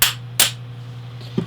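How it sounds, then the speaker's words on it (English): Hammer tapping a steel guard onto the pins of a Damascus barrel san mai Bowie knife: two sharp metallic taps close together, then a softer third knock, alone with no talk. "Hit it with the hammer a little bit."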